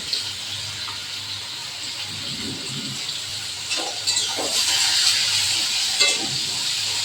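Chopped onion goes into hot oil already tempered with whole cumin, whole garam masala, sugar and dried red chilies, producing a continuous hissing sizzle with stirring, rising slightly midway, with no talk.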